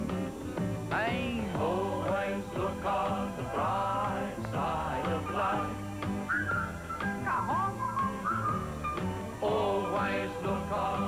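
Someone whistles a cheerful melody, a clear tune of short bouncing notes and sliding phrases that carries on steadily without pause.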